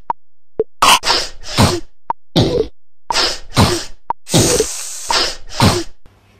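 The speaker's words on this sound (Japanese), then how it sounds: "このサイトではくしゃみや咳で音楽を作れるようです" A rhythmic string of sneezes and coughs, some chopped and repeated, arranged into a bouncy musical pattern with short beeping tones between them.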